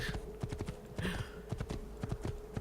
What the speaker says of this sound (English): Now this is why I like Shadow, because Shadow is the fastest horse.